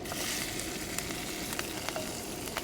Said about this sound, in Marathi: चिरून घेतलेला लसूण लसूण चांगला परतून घ्यायचा आहे